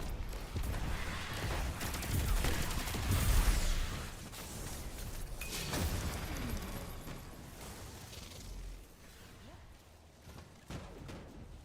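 Bursts of gunfire and explosions from the video game Destiny 2 crackle and boom over a loud, busy mix, with heavy impacts early on that gradually thin toward the end.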